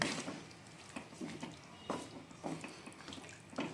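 Water is poured into a pan of semi-gravy vegetarian drumstick curry, a soft splashing trickle with small bursts of pouring, fairly close and with no talking over it.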